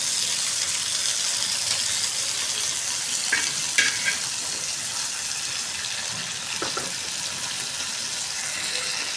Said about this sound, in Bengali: ভাজা আলুর মতো ভেজে দিব।